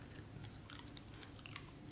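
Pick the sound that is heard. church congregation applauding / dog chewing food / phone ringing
dog chewing food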